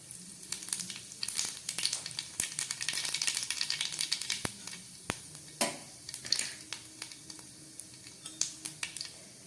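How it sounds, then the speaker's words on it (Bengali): Nigella seeds and fennel hit hot mustard oil with a steady crackling sizzle, dense high hiss studded with sharp pops and a few clinks of a pan, close and moderately loud with no talk. "তেলটা গরম হয়ে গেছে, এর মধ্যে আমি দিয়ে দিচ্ছি কালো জিরে আর মৌরি।"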